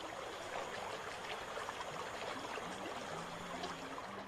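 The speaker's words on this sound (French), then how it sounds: "Rapides et cataractes sont fréquents en Guyane." Distant river rapids and waterfalls in the Guiana rainforest make a faint, steady rushing hiss, with a few soft tonal calls over the continuous flow.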